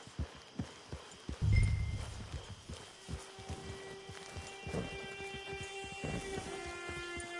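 Horse hooves clip-clop in a steady walking rhythm in Red Dead Redemption 2, near and moderately loud, with a thud and faint background ambience.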